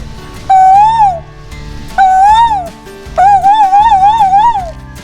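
A whistled imitation of a koel: three rising, hooting calls, the last one longer and wavering, each clear and close.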